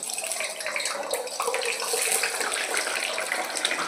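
Cut paneer cubes drop into hot oil and deep-fry, a loud, dense, continuous hiss and bubbling sizzle heard close up throughout.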